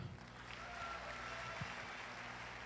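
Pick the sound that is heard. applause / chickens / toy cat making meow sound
applause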